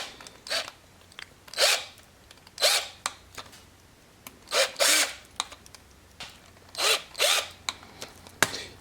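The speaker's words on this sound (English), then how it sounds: "Now switching to a 3/8 drill bit. So I'm just gonna use this at the top." A hand drill fitted with a 3/8 bit works into a Black Series Mandalorian Luke Skywalker action figure, giving repeated short grinding bursts close by, separated by brief pauses.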